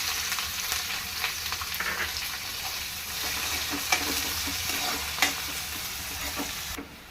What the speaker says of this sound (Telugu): ఇప్పుడు ఉల్లిపాయ ముక్కలు వేసుకుందాం.